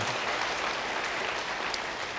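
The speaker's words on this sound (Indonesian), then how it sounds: "Beri tepuk tangan bagi dia." Audience applause at a church service, a continuous crowd of hands clapping at moderate distance with a few sharper claps standing out, no talk over it.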